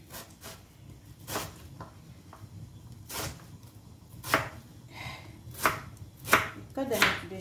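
An onion is chopped with a knife on a cutting board during home cooking. The quiet, close knife strikes come unevenly, some sharper than others, with soft rubbing sounds between them and no talk.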